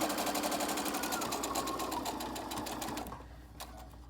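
Sewing machine stitching a fabric mask, a close, fast, even whirring needle rhythm running continuously before it slows and stops near the end, followed by a few faint clicks.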